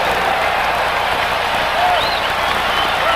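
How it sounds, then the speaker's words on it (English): A large arena crowd cheers and applauds steadily at a 1983 Lakers versus Bulls basketball game, a loud, dense roar of clapping and voices that holds throughout. "Boy, the crowd's really into this game now."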